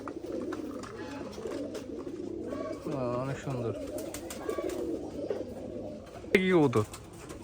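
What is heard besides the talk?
Giribaj pigeons cooing at a pigeon farm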